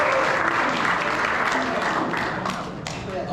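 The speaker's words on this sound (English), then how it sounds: "So, round of applause." A crowd at a high school baseball banquet applauds in a dense, continuous wash of clapping that tapers slightly toward the end, with voices faintly mixed into it.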